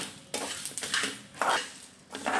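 Poppy seeds and spices dry-roasted in a pan without oil, with quiet scraping and clinking of a spoon against metal in a few irregular strokes, close and fairly soft.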